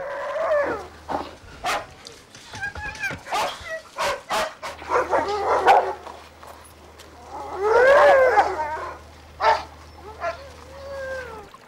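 Huskies at an isolated Arctic weather station on Hopen Island bark, yelp and snarl in rapid overlapping bursts while fending off a polar bear, loud and close, with deep growling roars mixed in.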